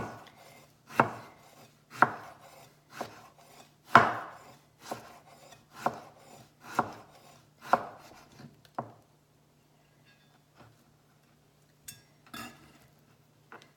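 A knife rocks through mango on a cutting board, cutting thin slivers in a steady series of crisp chops, about one a second, then a few sparse taps.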